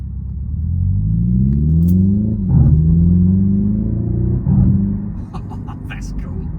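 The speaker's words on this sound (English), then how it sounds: "You've got that, yeah, that proper sort of DSG fart, and it sounds like the exhaust is really sort of popping and banging" A Hyundai Ioniq 5 N's simulated engine note climbs loud and close through the gears, cut twice by abrupt DSG-style shift drops with exhaust pops and bangs, then settles into a lower rumble.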